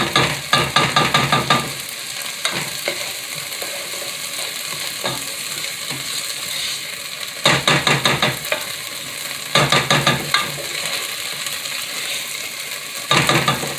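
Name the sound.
stirring sautéing vegetables in a pot for tomato basil soup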